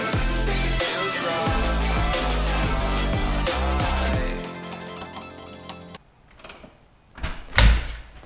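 Music plays loudly and then fades, leaving a quiet room where a door opens and shuts with a few clunks and a final louder knock near the end.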